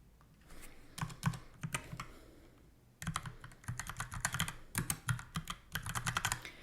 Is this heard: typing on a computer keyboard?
yes